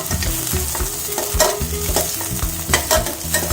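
Small onions sautéing in oil for a Madurai-style mutton liver pepper fry, a close, loud sizzle broken by repeated rhythmic clacks and scrapes of a spoon stirring against the pan, with no talking.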